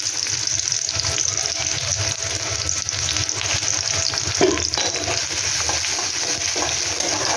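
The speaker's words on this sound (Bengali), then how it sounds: "পেঁয়াজগুলোকে একটু হালকা ভাজা করে নেব" Onions frying in hot oil in a wok, with a steady, dense crackling sizzle throughout and an occasional brief stirring clatter. The sound is close and continuous, with no talking.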